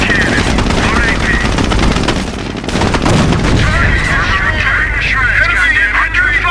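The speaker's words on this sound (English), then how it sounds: "Fire main cannon" Tank cannon fire and combat sounds from a Sherman tank battle in Company of Heroes, a dense, loud barrage of booms and gunfire with radio voices speaking over the mix throughout.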